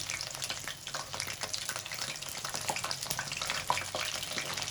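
Chicken tempura frying in a pan crackles and sizzles close up, with dense popping bubbles and small scraping stirs over a steady hiss.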